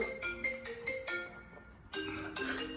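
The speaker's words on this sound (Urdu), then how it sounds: "کال آ رہی ہے مجھے" A mobile phone rings with an incoming call, its melodic ringtone repeating in short bursts with a brief pause midway, close and clear with no talking.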